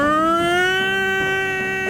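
A man imitates a tornado siren with his voice, one long sustained wail with a rich harmonic stack that swells and holds steady and loud for the whole stretch, with faint background chatter beneath.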